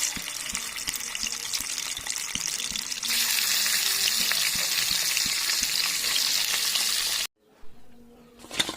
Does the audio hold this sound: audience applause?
no